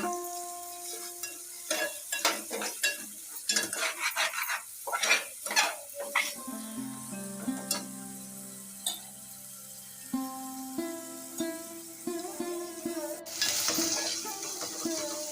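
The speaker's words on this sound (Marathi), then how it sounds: "कांदे पण चांगले फ्राय करून घ्यायचे आहेत एकदम ब्राऊन होईसपर्यंत" Onions fry in a pan until brown for palak paneer, with a soft sizzle under repeated scraping and stirring strokes, some clinks of utensil on metal, and a steady tonal hum in the middle.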